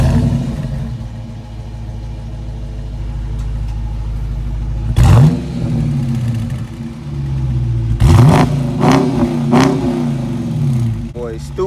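A 2020 Dodge Charger R/T's 5.7-liter Hemi V8 idles with a deep rumbling exhaust, then revs sharply several times, each burst loud and close before settling back.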